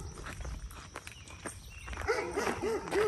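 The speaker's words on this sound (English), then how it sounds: "We're getting neighed at by a horse and barked at by a dog at the same time." Footsteps crunch along a trail while a Labrador barks a few times nearby, the barks rising toward the end.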